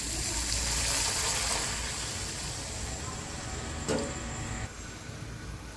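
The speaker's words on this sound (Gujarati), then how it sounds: "પાણી એડ કરી દઈશું" Water is poured into a cooking pot for upma, a loud, close, steady gushing rush that eases slightly midway and ends abruptly.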